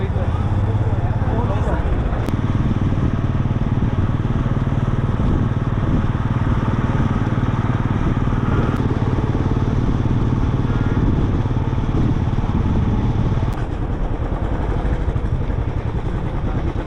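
A motorbike carries a rider along a mountain road toward Sagar village in the Garhwal hills, its engine droning steadily and close for the whole stretch with rough wind and road noise.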